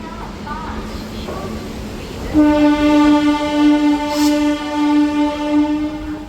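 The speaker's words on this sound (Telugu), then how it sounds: "మన ట్రైన్ ప్లాట్ఫామ్ నెంబర్ రెండు మంచి బయలుదేరింది" A MEMU train pulling out of platform two at Vijayawada Junction sounds a long, loud, sustained horn blast after a few seconds of rumbling station noise, with brief talk at the start.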